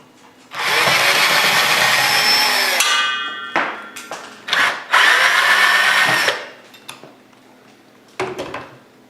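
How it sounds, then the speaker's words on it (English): A cordless power drill whirs loudly in two bursts of a few seconds each, backing out the screws that hold an old ceiling fan to its box. Short clanks and tool knocks come between and after the bursts. "Now I'm going to remove those screws and we'll drop the ceiling fan"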